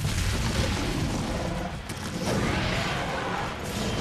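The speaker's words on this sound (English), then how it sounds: "I'm gonna bomb the Rathalos with my Barrel Bomb launch pluses." A Barrel Bomb detonates against a Rathalos in Monster Hunter 3 Ultimate, a loud, continuous roaring blast with dense low rumble that dips briefly and then swells again.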